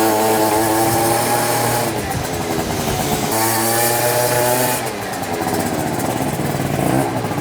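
A Yamaha BWS 50 scooter with a rebuilt Stage6 engine runs nearby, a loud, buzzing two-stroke idle that rises and dips with blips of throttle, sounding slightly rich and uneven.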